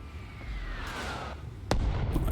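Mortar rounds from Arma Reforger whistle in on a long descending tone, then a sharp explosive impact lands near the end, followed by a second fainter burst, with no talking.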